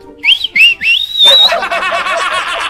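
Several short rising whistled notes, then a longer sustained whistle sliding upward, followed by a busier warbling whistle pattern, close and fairly loud.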